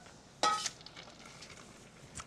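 Hot drained macaroni stirred in a pan with a milk-based almond sauce: a single short clatter of utensil against pan, then near-quiet.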